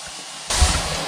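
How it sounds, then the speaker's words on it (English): A steady rushing, hissing water noise from a running water softener starts abruptly partway through and keeps going, loud and even, with a low rumble underneath. "was wondering what that noise was. Water softener thing running."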